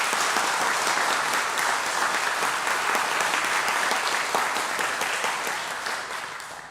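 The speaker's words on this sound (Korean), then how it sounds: "우리 감사의 마음을 담아서 박수로 인사를 한번 드리겠습니다." A church congregation at a Sunday service applauds together in a dense, sustained round of clapping that holds steady and then begins to fade at the end.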